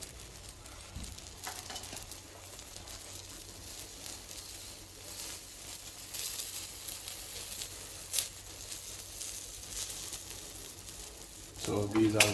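Keema paratha fries on a stovetop with a quiet, uneven sizzle and soft crackle, broken by a few brief clicks and scrapes, with a louder burst of activity near the end.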